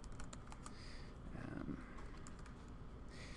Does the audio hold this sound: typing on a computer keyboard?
yes